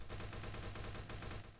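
P90 submachine guns fire in The Final Stand 2, a rapid, evenly spaced automatic burst of shots lasting over a second, steady and fairly close with no talking.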